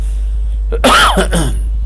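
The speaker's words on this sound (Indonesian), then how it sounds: "dengan saya batuk-batuk begini" A man coughs and clears his throat in one short, harsh burst, close and loud over a steady low electrical hum.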